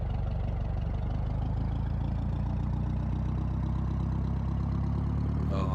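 Single-engine Cessna light aircraft engine of about 100 horsepower drones steadily and loudly throughout, a deep even hum with a strong low rumble and no talking.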